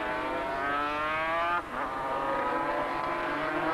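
A 500cc four-cylinder Suzuki and rival racing motorcycles at a track, a loud high-revving engine whine climbing in pitch, a brief gear-change dip midway, then screaming on steadily.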